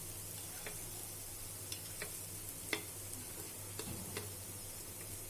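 Tomatoes shallow frying in a pan give a steady, even sizzle, broken by a few light ticks and clinks of stirring.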